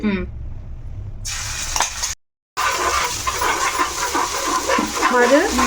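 Ginger and green chili paste dropped into hot oil in a home kitchen, a steady close sizzle and crackle following a brief silence, with someone talking over it.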